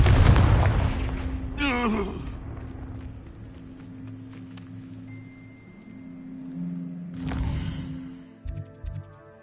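A Confringo fire spell explodes in Hogwarts Legacy, a loud booming burst at the start with a rushing tail, followed by game ambience and a second swelling blast later, with no talk.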